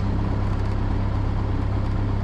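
Cessna Skyhawk 172R piston engine holding a steady run-up at 1800 RPM, a loud, continuous close-range drone with a strong low hum and even propeller throb throughout, no talk.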